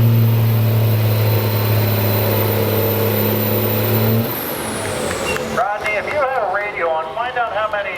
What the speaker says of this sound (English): There you go, look at the old Cummins.